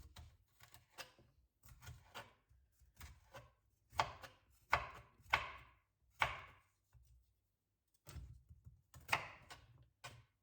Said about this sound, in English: Chop off that end first